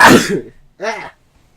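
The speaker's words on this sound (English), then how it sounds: "I wasn't expecting that sneeze." A person's sneeze, a sharp broadband burst followed by a brief voiced exhale, then quiet; close and loud.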